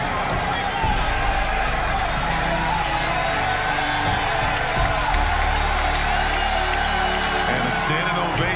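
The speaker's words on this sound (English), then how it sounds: "Standing ovation from this Target Center crowd." Target Center crowd at an NBA game, a dense, sustained roar of cheering and applause for a standing ovation, loud and continuous throughout, with an arena announcer's voice faintly underneath.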